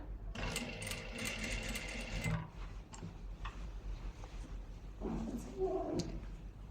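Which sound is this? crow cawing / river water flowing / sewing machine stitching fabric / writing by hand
sewing machine stitching fabric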